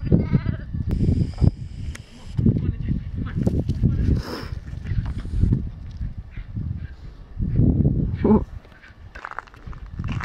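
Goats bleat at a farm feeding time, with several loud, wavering calls over footsteps and a person talking nearby.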